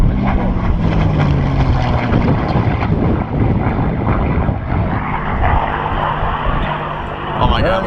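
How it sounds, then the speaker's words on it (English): A V12 liquid-cooled aircraft engine roars loudly and continuously as a propeller plane passes at an airshow, a dense sustained drone with people talking over it. "That's that V12 liquid-cooled engine."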